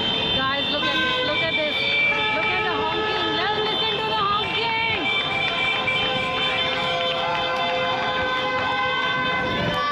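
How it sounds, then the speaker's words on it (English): Street horns blare in long overlapping tones, several at once, over a constant traffic roar with a voice now and then, during celebrations after Senegal beat Guinea at football. "Now listen to the honking."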